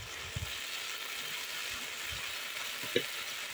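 Spices sizzle in a pan with jackfruit and potato, a steady close hiss of frying broken by a few soft knocks and scrapes of stirring.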